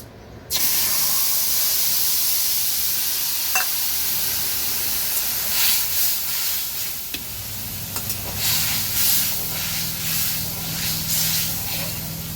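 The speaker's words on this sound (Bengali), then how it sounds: "এবার আমি তেঁতুলের পালটা এর মধ্যে ঢেলে দেবো" A sudden loud sizzle erupts as tamarind pulp hits hot oil with turmeric, then settles into continuous hissing and crackling frying.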